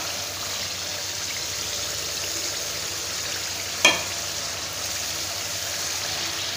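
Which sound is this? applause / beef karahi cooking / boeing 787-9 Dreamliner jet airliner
beef karahi cooking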